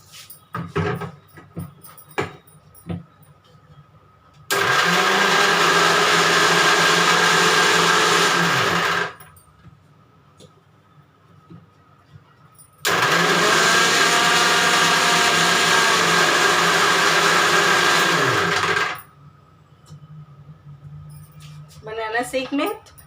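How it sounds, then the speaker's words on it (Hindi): A mixer grinder blends a banana milkshake with nuts, fennel, cardamom powder and milk in two loud whirring bursts of about five and six seconds, separated by a pause, with light kitchen clatter and brief speech before and after. "अब मैं इसे मिक्सी में ब्लेंड कर दे रही हूँ।"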